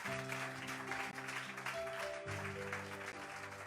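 A church congregation applauding in acclaim of the Lord during worship, a dense, steady wash of clapping under sustained organ or keyboard chords, moderately distant and continuous.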